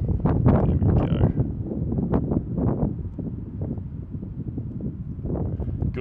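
Heavy, gusty wind blows outdoors during an open-air painting session, buffeting the microphone with loud, uneven low rumbles and bursts throughout.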